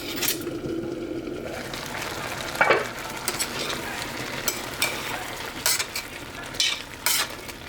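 Tomatoes and vegetables cooking in a pan, a steady sizzle and bubbling with occasional clinks and scrapes of a utensil stirring, close and continuous.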